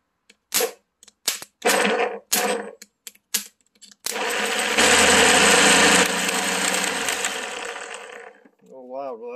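A combine gearbox fitted with new gears and no grease runs loud for several seconds in a steady mechanical whine, following a series of sharp clanks and knocks from the shop.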